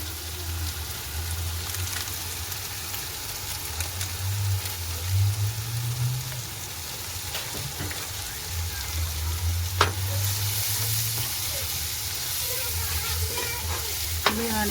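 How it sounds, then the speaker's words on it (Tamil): A biryani mixture sizzles steadily as it is stirred and fried in a pan, with a constant frying hiss, scraping stirring strokes and a few sharp utensil clinks against the pan. "இப்போ நாங்கள் நல்லா கிண்டி எல்லாத்தையும் சேர்த்து விட்டுட்டோம்."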